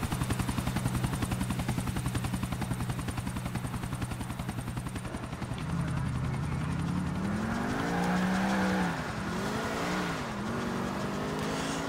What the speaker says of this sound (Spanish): El helicóptero, helicóptero.